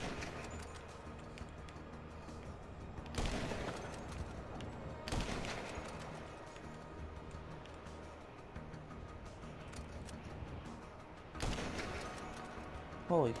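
Sniper rifle gunfire in a snowy multiplayer shooter game, three loud separate shots spaced a few seconds apart over quiet game ambience and occasional talk.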